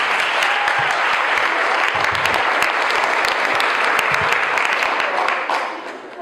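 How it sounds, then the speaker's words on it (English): Loud, full applause from an audience at a fitness challenge finale, many people clapping close and steadily for several seconds before it tapers off at the end. "Let's give you a round of applause."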